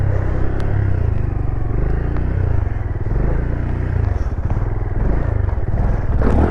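Motorcycle engine revving hard and steadily during stunt riding practice, a loud continuous rumbling drone with slight rises and dips in throttle throughout, close to the listener.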